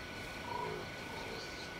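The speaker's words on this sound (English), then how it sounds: "I hear a frog, but I don't see it." In the video game Beasts of Maravilla Island, a frog gives a faint, brief croak partway through over a quiet ambient background, with no talking.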